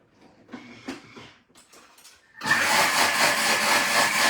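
A Thermomix TM6 blade whirs loudly through a quick mix of Brussels sprout salad with cranberries and almonds, a steady motor roar starting abruptly after a few quiet handling clicks and knocks.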